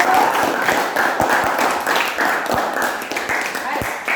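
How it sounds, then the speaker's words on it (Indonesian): Students in a classroom clap their hands together, a brief round of scattered, uneven claps with distinct sharp hits, while voices and room noise mix in beneath. "Kita tepuk tangan sekali lagi"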